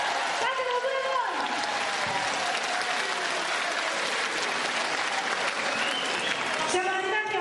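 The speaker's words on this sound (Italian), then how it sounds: "Datevi un applauso!" Sustained applause and cheering from a live concert audience in England, dense and steady, with a singer's voice carrying over the crowd at the start and the end.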